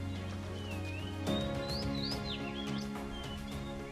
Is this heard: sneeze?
no